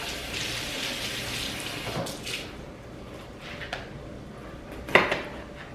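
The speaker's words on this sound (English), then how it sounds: "Rinse that out." Tap water runs into a kitchen sink during a rinse, a steady rush that tapers off, followed by a few faint clatters and a sharper knock of a dish or utensil near the end.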